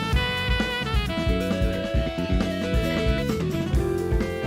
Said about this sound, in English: They put a fucking distortion pedal on the fucking like xylophone marimba